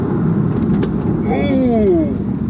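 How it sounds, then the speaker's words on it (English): Aston Martin DBS with manual gearbox braking hard under steady loud road and engine noise, with a rising then falling tonal squeal near the end as the car slows. "Say if I want to just stomp on the brakes."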